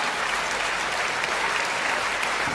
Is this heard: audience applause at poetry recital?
yes